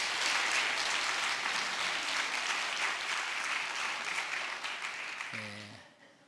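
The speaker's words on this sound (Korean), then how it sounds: "우리 박수 한번 하겠습니다" Church congregation at a Sunday worship service applauding steadily and fairly loud for about five seconds, the clapping fading out at the end as a brief low tone sounds.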